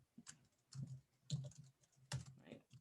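Typing a name on a computer keyboard, with soft, close key taps in short irregular bursts and brief pauses between them.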